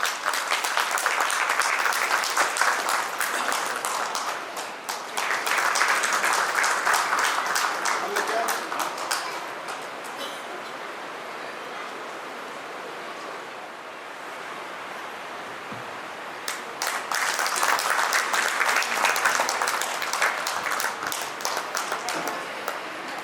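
Audience at a preschool annual day breaks into sustained applause in two waves, dense clapping that swells, drops to a murmur of voices, then rises loudly again.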